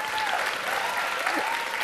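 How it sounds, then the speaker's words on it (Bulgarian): A studio audience at a Bulgarian folk dance competition superfinal bursts into steady, dense applause for Milena, loud and continuous throughout, with a faint voice or tone drifting through the clapping. "аплодисменти за Милена"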